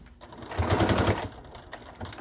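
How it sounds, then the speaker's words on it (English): A sewing machine stitches cork fabric for a billfold wallet, running a short burst of rapid, even needle strokes before stopping, close and fairly quiet. "giving it just a little extra back stitching."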